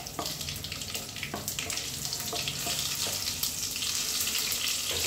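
Whole spices for Maharashtrian misal (star anise, cloves, black pepper, cinnamon and bay leaf) frying in hot oil: a steady, close sizzle with scattered crackles and pops running throughout, no voices.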